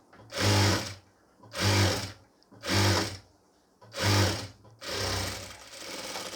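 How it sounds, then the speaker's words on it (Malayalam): A sewing machine running in four short, loud bursts of rapid stitching, then a longer run, as a double stitch is sewn on a pleated nightie, close and with no talk. "ഒന്നും കൂടി അടിച്ച് കഴിയുമ്പോൾ അവിടെ ഡബിൾ സ്റ്റിച്ച്"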